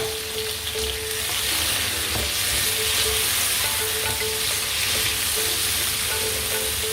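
Onions and tomatoes frying in a pan for Chennai-style veg pasta give off a steady, dense sizzle that holds loud and even throughout, with a few faint clinks and no speech.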